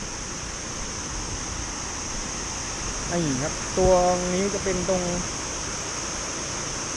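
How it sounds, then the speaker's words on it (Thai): Steady rushing of Si Tat Ton waterfall in Sakon Nakhon, Thailand, a constant broadband roar filling the whole stretch, with someone speaking briefly over it midway. "เป็นน้ำตกสวยมากครับ"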